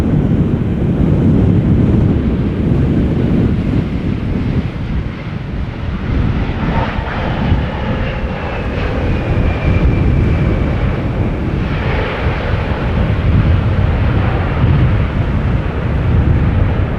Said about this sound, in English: KLM flight 871 outbound Delhi 777-300ER.